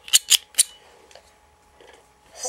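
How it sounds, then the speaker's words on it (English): Scissors snip close up with three quick, crisp metallic cuts, followed by softer faint handling clicks. "Some scissors."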